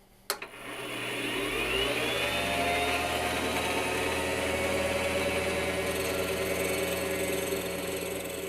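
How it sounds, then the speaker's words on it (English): A lathe spins up and cuts an airsoft gun barrel, a sharp click at the start followed by a steady mechanical whir with a faint rising tone, close and unbroken for about eight seconds. "we're gonna go to my lathe and cut this barrel."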